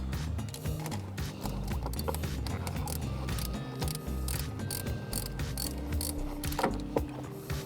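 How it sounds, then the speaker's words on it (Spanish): A ratchet works on the negative terminal of a 12 volt battery in an electric vehicle, giving rapid, faint clicking bursts in a quiet workshop setting. "lo que vamos a hacer ahora es desconectar el borne negativo"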